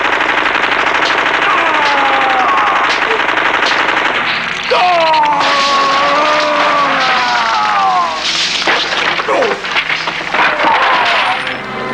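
Rapid machine gun fire rattles through a scene in Peter Jackson's Meet the Feebles, sustained loud bursts blended with wailing, siren-like musical tones and shouting.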